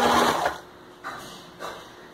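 A sewing machine stitches a seam on a plush slipper, a brief loud whirring run followed by two softer short bursts, close by with no speech.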